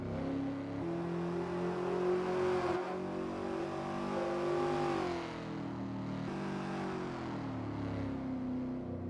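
Car engine in Gran Turismo 7 revving hard inside a tunnel, a loud, continuous reverberant drone rising and falling in pitch through several gear changes, heard alone without talk.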